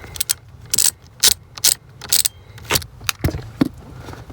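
Close metallic clicks and light rattles, irregular and scattered, as a screw is removed from a 2004 Toyota Camry blower motor.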